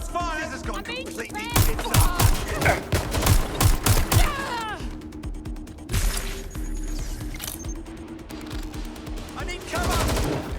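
Gunfire from the video game Watch Dogs Legion: loud bursts of rapid shots and a fusillade through the first half, then scattered heavier blasts, with game voices shouting over and between the shooting.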